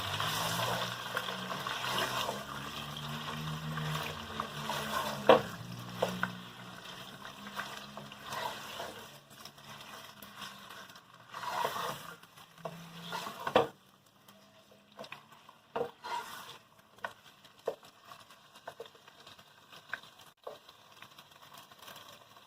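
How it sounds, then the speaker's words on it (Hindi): Chicken being fried and stirred in a pot for badami korma, wet sizzling and bubbling that thins out partway through into sparse clicks and scrapes of stirring, no talk. "तो अब मैं इसमें ये चिकन शामिल कर दूँगी। अब हमने इसे फ्राई करना है"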